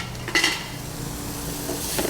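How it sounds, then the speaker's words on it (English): Shallots and garlic with salt sautéing in a pan kept moving, heard as clinks and scrapes of cookware over a steady low hiss, with a sharper clatter near the start. "some shallots, salt, and saute. We're going to keep the pan moving."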